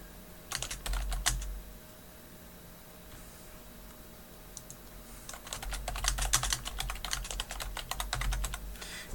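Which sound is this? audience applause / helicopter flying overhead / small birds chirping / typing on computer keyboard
typing on computer keyboard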